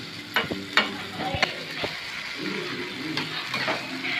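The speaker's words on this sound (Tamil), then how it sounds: "நல்லா கிளறிக்கிறோம் வெங்காயம் பச்சை மிளகா எல்லாமே" Mutton fry with onions and green chilies sizzles in a pan while a spoon stirs it, with several sharp scraping strokes over a steady frying hiss, close and fairly loud.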